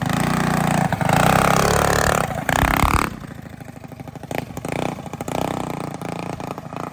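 A Predator 212 engine on a Manco Dingo mini bike revs hard and loud after carburetor tuning, then drops to a rough, clattering idle with uneven bursts of throttle.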